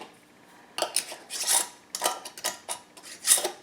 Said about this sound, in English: I have a plastic knife that I'm kind of just using as my debubbler